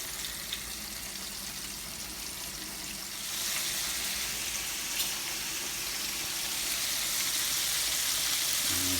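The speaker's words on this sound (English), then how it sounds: "You want to hear the sizzling of it." A steady, hissing sizzle of chicken frying in hot oil, close and continuous, growing slightly louder partway through with no talking.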